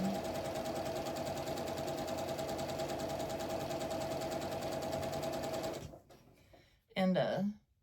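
A sewing machine stitching nine-patch quilt blocks runs with a fast, steady mechanical whir and needle chatter for about six seconds, then stops, followed by a short burst of talk.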